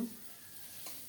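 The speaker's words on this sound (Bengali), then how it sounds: "মাছ ভাজা হয়ে গেল" Rohu fish frying in hot oil gives a faint, steady hiss of sizzling, with a brief scrape near the end and no voices.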